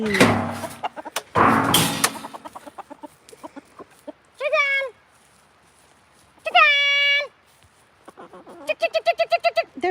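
Backyard chickens, waiting for treats, cluck and squawk in a few short separate bursts and end with a quick rhythmic run of clucks, after a person speaks briefly at the start.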